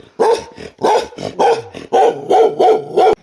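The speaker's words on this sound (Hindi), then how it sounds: "और ये है जी पहाड़ी कुत्ता मुझे देख कर भौंक रहा।" A mountain dog in a Himalayan village near Kedarnath barks repeatedly, about seven loud, close, sharp barks in an uneven rhythm with short gaps between them.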